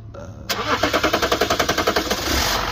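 A Range Rover L322 engine cranks with a rapid, even rhythmic chugging of the starter for over a second, then catches and settles into a loud, steady idle close by.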